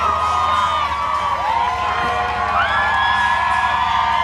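A roadside crowd at the Boston Marathon cheers loudly and continuously, with whoops and rising yells layered over a steady roar.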